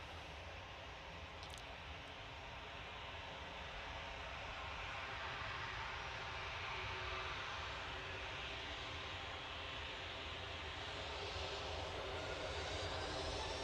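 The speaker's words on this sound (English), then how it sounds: "We're just awaiting the freighter coming in from Dublin." A freighter plane arriving from Dublin approaches Manchester Airport, its jet engine roar steady and distant at first and slowly swelling louder over the whole stretch.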